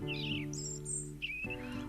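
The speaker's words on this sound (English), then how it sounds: "Robins are strongly territorial, and although their song is pleasant, it's mainly used as a keep-out threat to rival birds" European robin singing in a British garden, a lone bird giving a few thin, high warbling phrases with brief pauses between them over a steady background hum.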